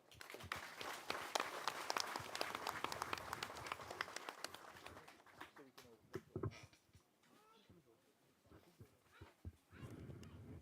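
An audience applauds the President at a residents' meeting at Monkey Mountain, Region 8. Dense clapping fills the first half, then fades into scattered claps under voices.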